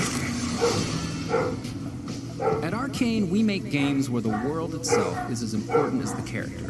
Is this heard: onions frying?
no